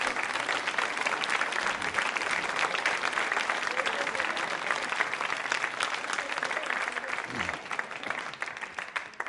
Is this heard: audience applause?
yes